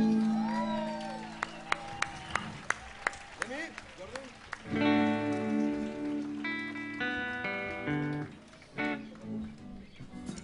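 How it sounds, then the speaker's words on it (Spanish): Audience at a live concert applauding a debuting musician, steady clapping mixed with sharp percussive hits and sustained instrumental tones, with a voice speaking over part of it. "un altre gran aplaudiment per a Lucas"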